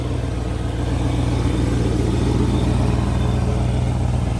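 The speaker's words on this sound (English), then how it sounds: "It's got a small exhaust leak on the driver's side." A 1966 Ford Ranchero with a 289 V8 and a small driver's-side exhaust leak idles steadily and close by. The engine runs as a loud, even rumble throughout, with no talk over it.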